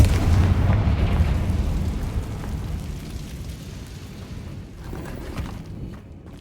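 A Confringo spell explosion in the video game Hogwarts Legacy bursts with a deep, heavy boom whose rumbling roar slowly fades over several seconds, with no voices.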